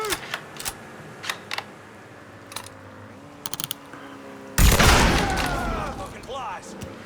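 Gunfire in the Mafia III video game: sparse sharp shots crack in short bursts over a low background, then a loud, sustained blast of noise takes over near the end, with voices in between.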